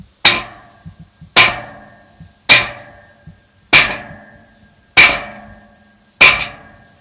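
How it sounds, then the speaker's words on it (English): Hammer blows driving a metal bracket down flush on the end wall of a Zimmerman high tunnel, six sharp, evenly spaced strikes about a second apart, each ringing briefly, with a few lighter taps between. "Now, I'm going to take the hammer."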